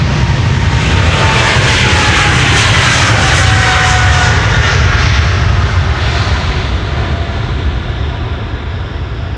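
Jet airliners taking off from runway 36L at Amsterdam Schiphol produce a loud continuous engine roar with a rising whine that stays steady and close, then slowly fades.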